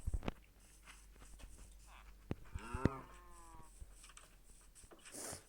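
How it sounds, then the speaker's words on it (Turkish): A cow moos in the Minecraft video game with one drawn-out, pitched call in the middle, set among a few soft clicks and footstep-like taps at low volume. "Şimdi bir tane de inek bulup gelelim."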